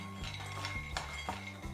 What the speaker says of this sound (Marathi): दाणे भाजायला लागले तरीसुद्धा त्याचा असा आवाज येतो